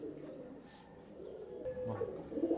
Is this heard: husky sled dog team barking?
no